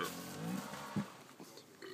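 A short, quiet, low burp-like sputter pops up once in the middle of a faint, murmuring background.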